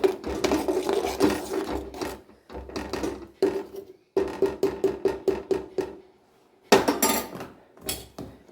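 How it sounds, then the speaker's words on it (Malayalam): A ladle scrapes and rasps against a pot of salted mango curry in bursts of stirring strokes, close and distinct, with brief silent pauses between rounds and no voices. "ഇനി ഒന്ന് ഇളക്കി കൊടുക്കാം."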